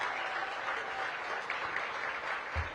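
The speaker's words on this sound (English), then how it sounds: "give them a big round of applause." A crowd at a hospital construction topping-out ceremony applauds, a dense and continuous wash of clapping that holds steady at even loudness throughout, with a brief low thump near the end.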